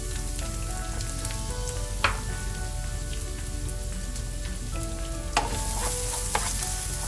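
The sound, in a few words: chopped onions frying with lentils in pan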